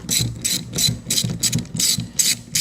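Rapid ratchet clicking in repeated bursts while bolts are loosened from the fuel sending unit of an abandoned, bug-infested Corvette, close and steady with no talking.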